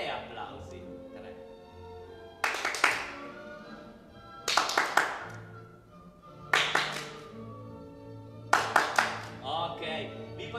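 Juggling practice in which each ball toss is followed by a crisp burst of three hand claps, repeated four times at steady intervals, close and loud against a quiet room.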